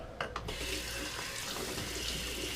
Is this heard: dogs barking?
no